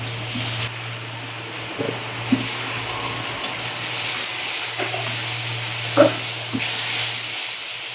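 Potatoes frying in oil for mutton biryani give a steady, moderate sizzle with a few louder stir clanks and splutters, no talking.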